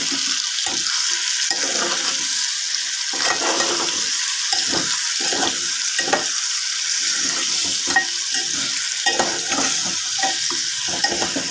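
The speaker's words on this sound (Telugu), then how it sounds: "ఇప్పుడు కలుపుదాం ఫ్రెండ్స్." Village-style mutton curry is stirred in a pot over a constant frying sizzle, with irregular scraping and clacking strokes of the spoon against the pot, close and loud, without any voices.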